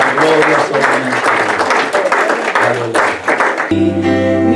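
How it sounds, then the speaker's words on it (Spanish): Congregation applause during a Spanish-language church service, loud clapping mixed with crowd voices and music tones, ending with a sustained musical chord as the praise continues. "Démosle otro aplauso fuerte al Señor"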